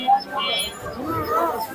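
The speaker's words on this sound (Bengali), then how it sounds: "এখানে একটা মাদি কবুতর দেখতে পাইতেছি" Pigeons coo and chirp amid the bustle of the Mirpur pigeon market on a hot day, with soft repeated calls mixed under nearby talking voices.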